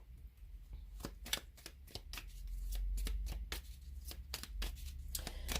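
Tarot cards handled and shuffled close up, a quick series of sharp crisp card flicks and slides in an irregular rhythm, fairly faint against a low background hum.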